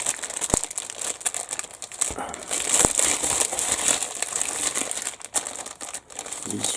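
A plastic bag holding 1/35 scale model kit sprues is handled close up, giving continuous soft crinkling and rustling with a few sharper clicks, alone without talk.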